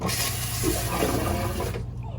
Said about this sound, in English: When your black tank is full, your toilet will burp at you